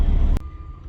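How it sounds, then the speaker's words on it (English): A truck's backup alarm sounds as it reverses, one loud beep cutting through a low idling rumble, then a faint lingering tone over the engine drone. "this guy started backing up, and of course his truck has a backup alarm"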